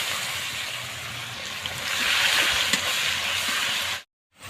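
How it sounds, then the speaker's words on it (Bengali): Chopped onion sizzles in hot oil for a chicken curry, a steady close hiss that swells midway and then cuts out abruptly near the end, with no talking. "এখন আমি পেঁয়াজ কুচি দিয়ে দিচ্ছি"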